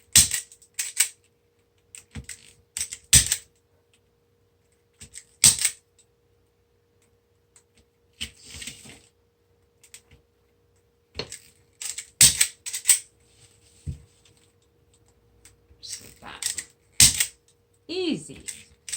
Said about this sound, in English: Now I'm going to go ahead and cut all these tie wraps off.